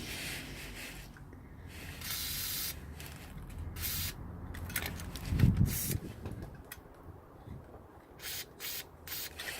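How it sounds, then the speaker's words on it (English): WD-40 Fast Release penetrant sprayed from a nozzle can onto a VW T3 lower control arm bush: repeated short hissing bursts of spray, close and fairly quiet, with some scraping and handling noise in between. "I'm giving this stuff a go, so WD-40 fast release penetrant apparently"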